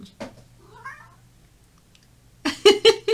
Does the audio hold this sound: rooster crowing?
no